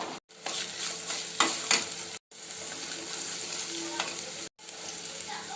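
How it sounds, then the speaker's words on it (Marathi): Onion with ginger, garlic, turmeric, red chili and garam masala frying in hot oil, a steady close sizzle with scraping stirs, broken by two brief silent cuts. "चला आता तेल गरम झालंय, कांदा टाकलाय, कांदा मस्त लाल करून घ्यायचा"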